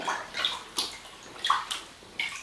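Cotton fabric is dipped into room-temperature water with dissolving soda, giving soft repeated sloshes and gurgles in quick bursts close by.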